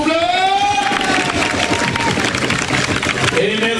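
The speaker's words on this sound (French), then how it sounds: "Est-ce qu'on peut redoubler l'applaudissement pour eux" Crowd noise at the 2020 Mardi Gras giga parade in Basse-Terre, loud and continuous throughout, with cheering voices and a dense wash of clapping and whistling from a large outdoor gathering, voices talking over it.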